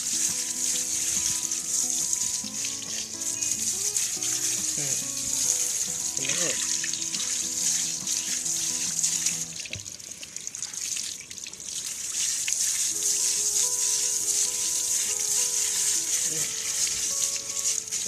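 A strong pressure-water spray hisses continuously against the chain of a Yamaha YZF-R3 motorcycle, with splashing and dripping throughout and a voice talking in the background.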